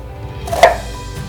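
A knife tip makes small slices into food on a cutting board, giving one soft, quick cut that stands alone in a quiet kitchen.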